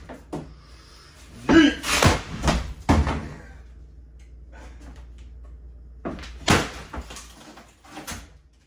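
A sledgehammer bashes through a kitchen cabinet door during a remodel, with several sharp, heavy wooden cracks and thuds in two bursts separated by a quieter stretch, close and loud.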